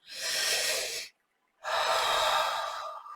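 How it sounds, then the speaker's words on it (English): Two long, deep belly breaths, a strong breathy inhale and then an exhale after a brief pause, both close and airy with no talking. "what you're going to do is just going to breathe into the belly"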